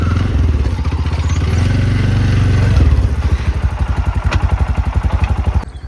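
A Honda Activa scooter arrives, its engine droning close and loud, then settling into a rhythmic chugging putter before cutting off near the end, with no speech over it.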